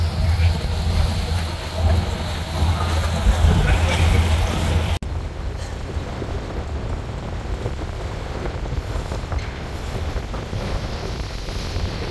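A passenger launch on a river travelling from Jhalukati on a Barisal to Dhaka run overtakes another launch, with steady broadband rumble of engine, water and wind noise throughout and no clear distinct events.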